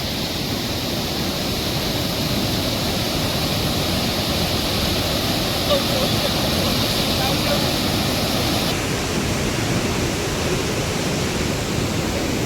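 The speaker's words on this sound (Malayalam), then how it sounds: "റോഡൊക്കെ നിറഞ്ഞ് കവിഞ്ഞ് ഒഴുകാണ്" Heavy floodwater overflowing a road during strong Kerala rain, a loud continuous rushing roar of flowing water that holds steady throughout.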